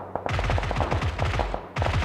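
Gunfire in PUBG, fired in a rapid string of sharp, evenly spaced shots, then a pause and another quick burst at the end, close and punchy with no talking.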